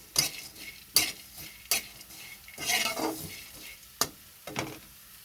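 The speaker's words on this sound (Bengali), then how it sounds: "তো খুব অল্প তেলে বড়িটা আমি ভেজে নিচ্ছি" Lentil badi frying in a little mustard oil in a wok: a faint sizzle broken by several sharp scrapes and clinks of a spoon stirring against the pan.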